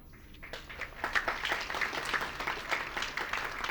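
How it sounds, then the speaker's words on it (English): A conference session audience claps, fairly faint and distant, a steady patter of many hands that swells slightly and continues throughout without talk. "Can you clap a little louder?"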